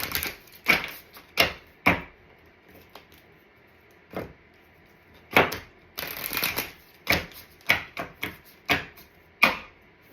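Tarot advice cards are shuffled by hand for a Sagittarius reading in a series of crisp riffling bursts, close and fairly loud, with short pauses between bursts and no talk.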